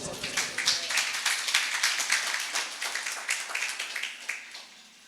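An audience at a Christmas sermon claps steadily for several seconds, a dense patter of many hands that slowly thins out and fades at the end.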